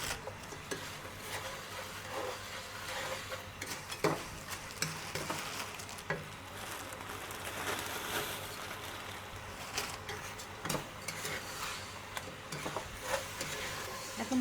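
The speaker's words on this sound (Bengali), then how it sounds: "চিনিটা দিয়ে সুন্দর করে ভেজে নিচ্ছি।" Lachha semai vermicelli frying with sugar and ghee in a home kitchen. A continuous close sizzle runs throughout, with scraping stirring strokes and soft clinks, and no voices.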